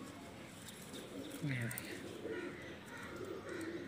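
Kaal noky low flyer pigeons coo softly nearby in a few rising and falling low calls, while someone speaks briefly over them.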